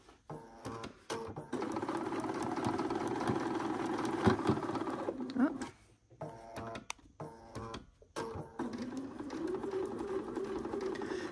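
A sewing machine stitches fabric at a steady, fairly loud mechanical whir that runs continuously, drops out briefly twice with short pauses, then resumes for the backstitch.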